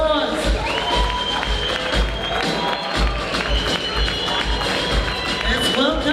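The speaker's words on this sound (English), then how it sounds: "Let's give him a warm round of applause." An audience at a police provincial excellence awards ceremony keeps up continuous clapping and cheering with crowd noise throughout, loud and close, with a voice speaking over it.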